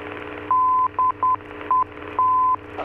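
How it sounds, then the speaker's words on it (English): A steady electronic tone beeps in a pattern of long and short pulses, a navigation beacon's Morse identifier spelling DET, repeating over a low light-aircraft engine hum in a PA28 cockpit. "That's the Morse code spelling out Delta Echo Tango."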